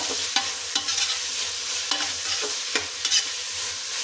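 Tomatoes fry in butter in a pan while being stirred, a soft continuous sizzle broken by several quick spoon scrapes and taps spaced through the few seconds.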